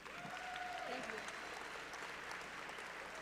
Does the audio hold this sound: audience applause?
yes